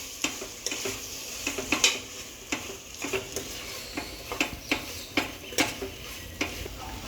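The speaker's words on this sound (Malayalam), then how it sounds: "ഇനി നല്ലോണം ഒന്ന് മിക്സ് ചെയ്ത് കൊടുക്കുക" Spoon scraping and clinking in a pot as vegetable biryani ingredients with squeezed lemon juice are mixed, in a steady run of repeated close stirring knocks over a soft sizzling background.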